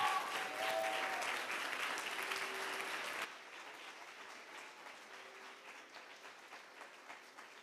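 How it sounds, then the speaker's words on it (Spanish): A church congregation standing at a revival service breaks into loud applause, dense clapping that suddenly drops to a softer, sustained patter of hands with faint cheering. "diéramos un fuerte aplauso a Dios por la vida de Pedro Gómez."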